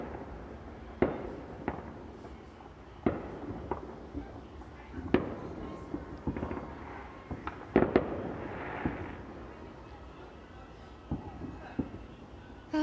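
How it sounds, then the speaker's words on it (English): Fireworks and firecrackers go off outside a back porch during a Super Bowl win celebration, with repeated sharp cracks and pops at irregular intervals, some near and some distant, over a low background rumble. "Just right here on my back porch watching fireworks."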